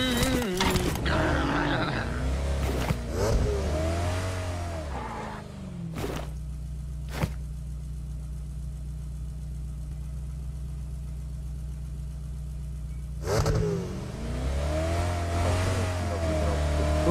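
A McLaren car engine in a racing video game revs loudly, then settles into a steady droning hum for several seconds before revving up again, with brief sharp clicks in between.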